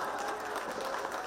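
Applause from an audience at a BJP joining event in Odisha, a steady wash of many hands clapping throughout, dense and fairly loud with no clear gaps.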